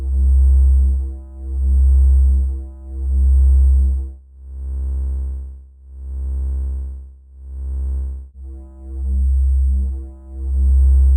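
A steady synthesizer tone through a VCA modulated by a slow sine wave swells and fades in slow, smooth waves, about five even pulses of rising and falling loudness, with no talking.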